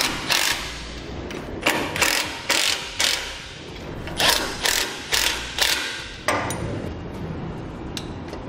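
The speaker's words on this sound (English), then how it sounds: "Now we'll get these snugged down and torqued to the specification listed in your instructions." A wrench ratchets steadily, tightening nuts on a round A-frame trailer jack, with about a dozen quick clicking strokes in regular bursts, close and fairly quiet with no voices.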